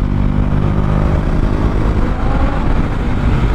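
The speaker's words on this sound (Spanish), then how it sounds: "Ahí estoy escuchando unos motores grandes ya." Large motorcycle engines rumbling on a night group ride with KTM 390 Duke bikes, a loud, continuous low engine drone with a steady mid-range growl filling the whole stretch, no talk.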